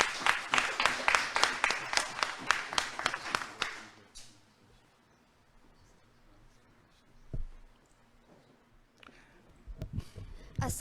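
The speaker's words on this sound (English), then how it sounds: "I want to call in your big applause Anne Khan from the Milton Titan" An audience claps at a Ramadan quiz award ceremony in Toronto. Several seconds of loud, rhythmic clapping fade out, leaving quiet room noise with a few faint knocks.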